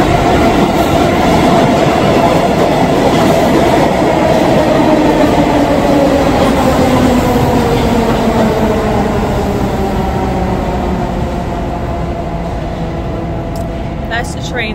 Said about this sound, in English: That's the train that comes through.